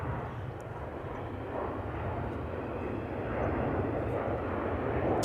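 A Singapore Airlines Airbus A350-900 takes off at Amsterdam Schiphol, a continuous moderate engine rumble that grows slightly louder over a few seconds, with no clear talking.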